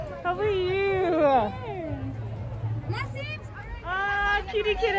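A cat meows several times in drawn-out, wavering cries, with a pause between, while faint voices murmur in the background.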